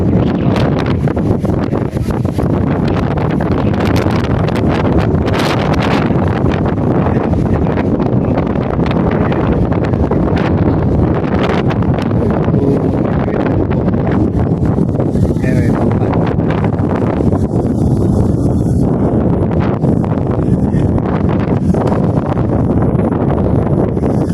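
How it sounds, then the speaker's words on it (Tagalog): Strong wind roars and buffets the microphone continuously, a dense rushing blast with gusting surges and no pauses. "Pakalakas ng hangin dito mga kabisnes."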